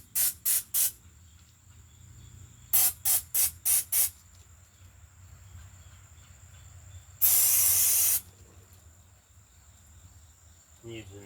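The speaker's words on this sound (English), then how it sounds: "Using penetrating lubricant spray." Short bursts of penetrating lubricant spray hiss in quick groups of four, followed by one longer, louder continuous spray, close up on a push lawnmower over a quiet background hum.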